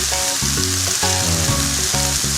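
Meat stir-frying with enoki mushrooms and green chili peppers for japchae rice: a loud, continuous hissing sizzle close up, with music playing underneath.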